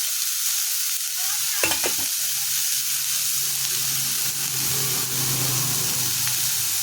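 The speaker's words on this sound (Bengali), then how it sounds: "একটু নেড়ে চেড়ে নিলাম।" A spatula stirs maan kochu (giant taro) frying in a pan, a sharp scrape and clatter near the start, then a long stretch of loud, steady sizzling with a low hum, no one speaking.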